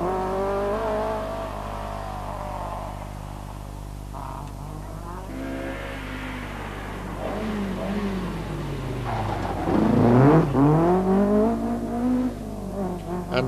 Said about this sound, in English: Stanley Orr's stylish driving of his RS 2000 has impressed many along the route.